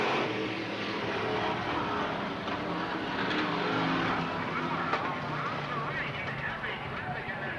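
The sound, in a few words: stock car spinning out at a speedway race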